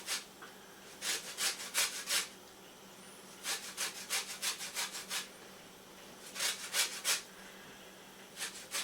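Orange zest being grated on a large cheese grater, heard up close as quiet rhythmic scraping strokes that come in three quick runs of four to six rasps each, with short pauses between the runs.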